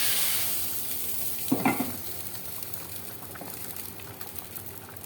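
A fried egg drops into a pot of hot dal and gives a sudden loud sizzle that settles into a steady, softer bubbling hiss.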